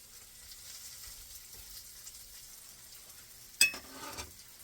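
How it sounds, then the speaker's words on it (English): Bacon and onions frying in a pan, a quiet steady sizzle throughout, broken near the end by a brief metallic clink of a utensil. "now that I'm waiting for the bacon to finish up and the onions to cook"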